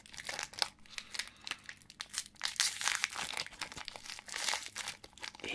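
BattleTube trading card booster packs being torn open and handled, with steady close crinkling and crackling of foil wrappers and paper, continuous and soft, with no talking.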